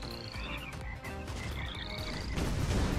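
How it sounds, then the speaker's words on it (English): Frogs croak loudly and continuously in the artillery game ShellShock LIVE, a dense chorus of rapid ribbiting that runs throughout with no talk. "Frogs, let's go frogs."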